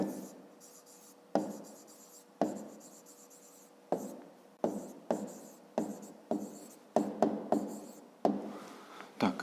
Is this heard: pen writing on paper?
yes